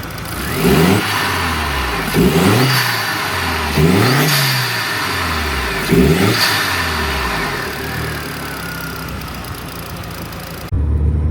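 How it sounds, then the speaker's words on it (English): A turbocharged car engine idles loudly, then revs sharply four times in a row, each rev climbing quickly before dropping back to a steady rumble. "we're going to do some revs at idle just so you guys can get a good feel for what it sounds like."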